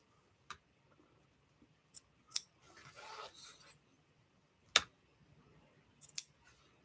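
Scissors cut through embroidery fabric in a few sharp, separate snips spread across the moment, close and crisp, with a soft rustle of material between cuts and no talking.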